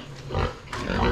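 Pig grunting on a Philippine farm, with a mud pen nearby; a few rough, close grunts in a short burst over steady outdoor background.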